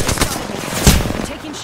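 Rapid bursts of video-game gunfire during a Wraith solo match, loud and close with a sharp peak midway, mixed with game effects.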